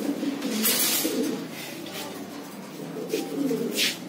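Pigeons in a farm loft coo in repeated soft, throaty phrases at mid distance, with a few faint chirps over a steady low background and no talking.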